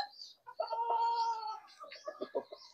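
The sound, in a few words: chickens clucking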